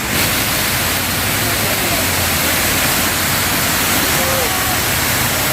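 An artificial waterfall outside a cave restaurant at sunset gives a steady, dense rush of falling water that fills the scene without a break, close and loud.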